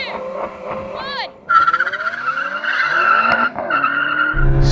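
BMW M5 cars launch hard in a drag race, engines revving sharply with rising tones and tire squeal, loud and close, with someone talking over the roar.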